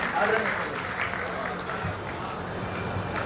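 Crowd clapping at a Durga Puja festival poetry gathering, a broad wash of applause from a large audience, steady and moderately loud, with some voices mixed in.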